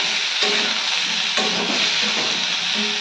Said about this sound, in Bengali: হালকাই ভেজে নেবো, কারণ অলরেডি আমার সিদ্ধ করা ছিল না, তাই আমি বেশি ভাজবো না